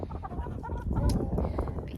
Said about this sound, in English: I don't mind my roosters getting out